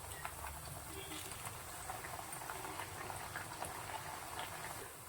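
Bottle gourd vadas fry in hot oil over a medium flame, making a steady, soft bubbling sizzle that continues evenly throughout at low volume.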